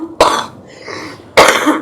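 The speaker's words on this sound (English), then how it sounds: "They're like, wow, we're worried about that cough." Two harsh, loud coughs from an adult, close by and about a second apart, with a quieter throat-clearing rasp between them.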